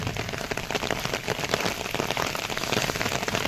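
Steady rain patters densely on nearby surfaces, a close, even hiss of countless drops that runs on alone with no voices.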